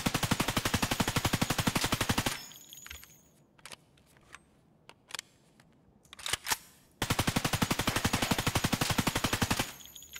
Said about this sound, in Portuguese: Não é possível que eu vou conseguir atirar e ela não vai travar.